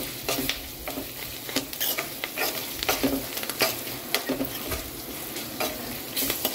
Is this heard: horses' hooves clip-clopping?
no